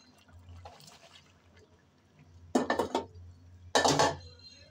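Pre-cut flat beans drop into a pan of small local potatoes cooking in a kitchen, giving two bursts of sizzling clatter over a low steady hum.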